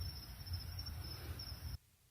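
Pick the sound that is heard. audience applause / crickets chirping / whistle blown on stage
crickets chirping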